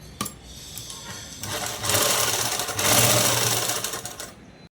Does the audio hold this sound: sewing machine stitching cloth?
yes